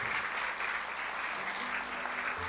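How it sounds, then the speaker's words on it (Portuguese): Audience applause fills a school hall at the opening of the 2022 school year, a steady, dense clapping wash that stays loud and even throughout. "Então vamos aplaudir, pode aplaudir mesmo, vocês."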